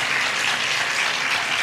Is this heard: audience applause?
yes